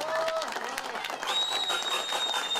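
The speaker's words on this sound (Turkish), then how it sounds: "Kardeşime bir alkış da alabilir miyim?" Applause and crowd noise from wedding guests at a celebration, dense clapping mixed with voices and whistle-like tones, steady and fairly loud throughout.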